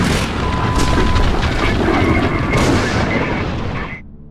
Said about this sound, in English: Loud, earth-shaking booms with no apparent cause.